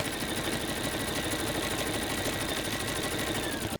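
Sewing machine stitching a garden flag, a close, loud, even whirring hum with rapid needle rhythm, running continuously and cutting off abruptly at the end.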